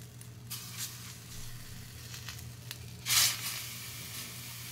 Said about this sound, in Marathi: तवा तापलेला आहे, त्याच्यामध्ये हे थालीपीठ असं घालायचं